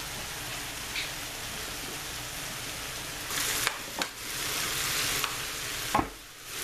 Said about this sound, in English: this is frying nicely